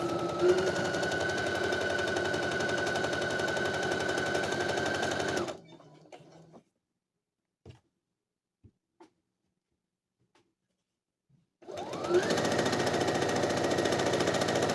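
Sewing machine stitching the side seam of a dress made from a thrifted sheet: a steady, close whirring run, a pause with a few small clicks, then another sustained run.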